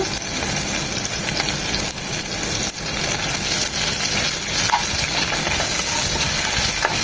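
Curry leaves crackling with chicken in hot oil, a loud, dense, continuous sizzling hiss that holds steady throughout with no voices.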